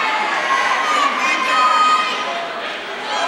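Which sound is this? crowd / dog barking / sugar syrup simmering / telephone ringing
crowd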